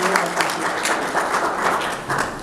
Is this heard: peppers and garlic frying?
no